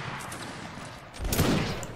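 Musket gunfire during a siege battle in Mount & Blade Warband Napoleonic Wars, a dense rolling volley that swells loudly partway through over a steady noisy battle background, with no talking.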